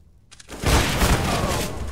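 Gunshot in a CS:GO match on Mirage: silence, then a sudden loud report with a booming low-end rumble that rolls on and decays.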